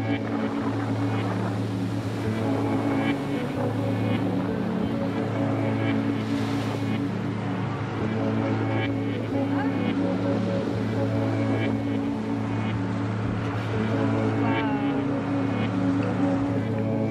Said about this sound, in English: We're now sat on the freebird boat.